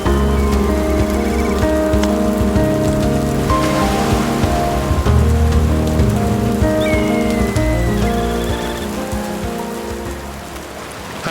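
Heavy rain pours down at Matengai, the towering sea cliff on Nishinoshima in Japan's Oki Islands, a dense, steady patter and hiss that stays loud throughout and eases slightly toward the end.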